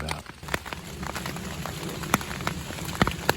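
Rain falls steadily outdoors on a field during a muzzleloader deer hunt, a soft patter with scattered sharper drops hitting nearby surfaces.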